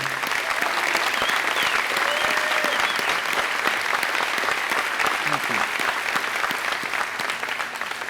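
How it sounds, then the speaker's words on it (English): Sustained, dense applause from a seated breakfast audience at a community service event, honoring a court team officer who has been asked to stand; steady and fairly loud throughout with a faint murmur of voices. "Would you stand up and get your own round of applause for being part of the court team?"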